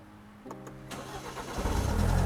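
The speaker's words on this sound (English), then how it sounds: "Now, like I said, pay attention to the cranking speed." A car engine cranks rapidly on a high-performance battery, catches within about a second and settles into a steady, rising idle. The sound is close, loud and continuous, with no talking.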